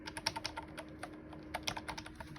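Someone types on a new computer keyboard, making quick, close, crisp key clacks in an uneven rhythm with brief pauses.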